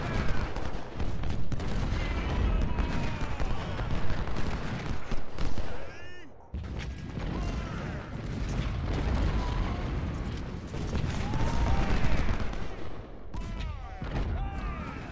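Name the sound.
gunfire in Civil War video game Ultimate General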